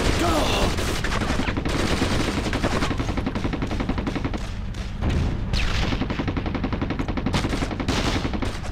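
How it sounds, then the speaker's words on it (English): Sustained heavy gunfire in the World War II video game Brothers in Arms: Road to Hill 30, aimed at a tank near Vierville, with loud, dense automatic bursts and rifle shots that keep going with only brief dips. "I need heavy fire on that tank, now!"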